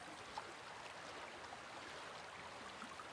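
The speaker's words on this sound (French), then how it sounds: "Dans une cascade d'eau là," A waterfall in the video game Ark Survival pours as a quiet, steady broadband rush of falling water, continuous and even throughout with no voices.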